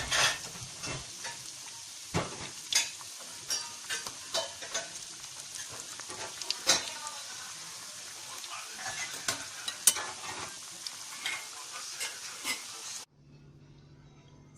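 Sesame-coated falafel frying in oil, a quiet steady sizzle punctuated by frequent sharp pops and crackles, close by, with no voices, ending in near silence.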